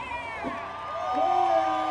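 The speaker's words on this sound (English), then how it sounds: "Everybody is just cheering him on" Spectators cheer a marathon runner at the Missoula Marathon finish, whoops and shouts from an outdoor crowd rising over a background of voices.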